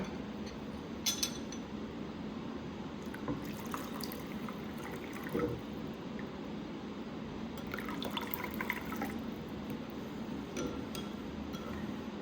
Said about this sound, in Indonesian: kemudian kita campurkan dengan air